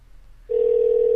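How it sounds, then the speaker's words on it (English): A telephone dial tone comes on abruptly after a short quiet moment, a steady, loud, close single tone that holds to the end. "let's hopefully I dial it right, and let's get him on the phone"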